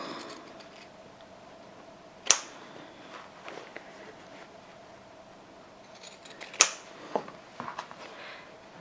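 Scissors snip fabric close to fresh stitching on a sewing project, with two sharp distinct cuts and a few faint smaller snips and handling noises in a quiet room.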